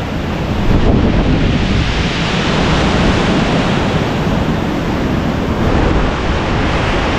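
Strong typhoon wind roars without pause during Super Typhoon Uwan, a loud, dense rushing that buffets the microphone from close range, with no voices.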